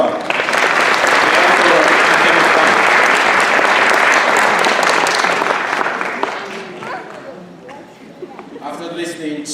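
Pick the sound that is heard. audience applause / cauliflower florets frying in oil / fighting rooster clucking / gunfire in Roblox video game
audience applause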